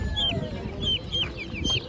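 Chickens at a poultry market in Ankara give several short, high clucks in a quick, uneven series. The birds sound close, over a steady low crowd murmur.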